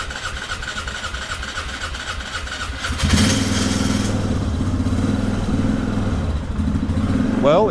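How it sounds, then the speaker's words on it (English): A 1997 Polaris Sportsman 500 ATV that has trouble running, given some gas, cranks for a few seconds and then catches into a loud, rough, uneven idle close by. "what if we give it a little gas when we try to start it?"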